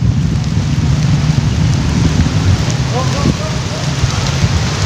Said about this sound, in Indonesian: hujan mulai deras.